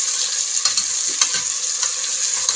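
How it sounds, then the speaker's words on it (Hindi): Chopped onions frying toward light brown for a degi-style chicken qorma, a bright, even sizzle up close with scattered stirring clicks and no voices. "इनको तब तक भूनना है जब तक इनका जो कलर है वो लाइट ब्राउन ना हो जाए"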